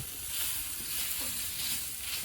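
Small pieces of venison back strap dusted with flour, salt and pepper stir-frying on hot sheet metal, a steady bright sizzle with a faint scrape of stirring, alone and close.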